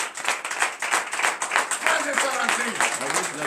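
A congregation at morning prayer claps in acclamation, a busy run of applause with speech mixed in, close and steady from start to finish.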